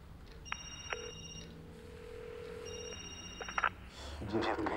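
A telephone rings in a comedy film, with tonal electronic ring bursts in two separated pulses, moderately quiet, followed by brief clicks and rustling as it is picked up.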